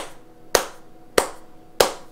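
Three sharp, evenly spaced hand claps, close and crisp, about two-thirds of a second apart, in an otherwise quiet room.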